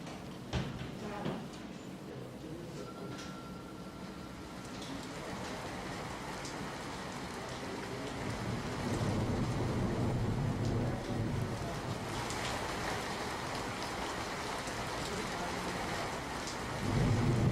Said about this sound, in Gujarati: નવસારી જિલ્લામાં પણ ધોધમાર વરસાદ વરસ્યો છે